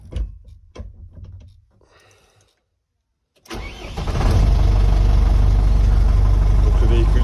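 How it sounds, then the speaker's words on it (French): A Renault Midliner truck's diesel engine cranks and fires after a quiet pause with light handling noises, then settles into a loud, steady rumbling idle close by. "Donc le véhicule démarre."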